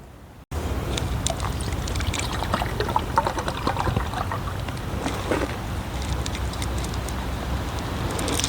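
A small camping stove burns outdoors to heat water for coffee: after a brief silence, a steady roaring hiss begins, close by, with gusts of wind on the microphone and no talking.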